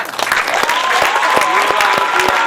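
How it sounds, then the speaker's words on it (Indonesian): Applause at a school event, a dense burst of steady clapping from a crowd that carries at full strength through the whole stretch, loud and fairly close, with faint voices mixed in underneath. "tepuk tangan"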